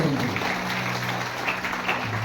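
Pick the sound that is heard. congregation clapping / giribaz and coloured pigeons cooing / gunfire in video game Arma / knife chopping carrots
congregation clapping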